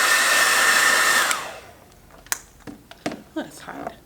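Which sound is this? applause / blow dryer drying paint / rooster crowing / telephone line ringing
blow dryer drying paint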